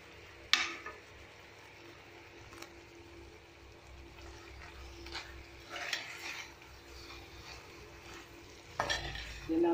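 A spoon stirs chicken curry with red chilli, salt, turmeric and curry leaves in a pan: soft scraping and shuffling strokes with a few sharp metal clinks over a faint sizzle, close by and with no talk.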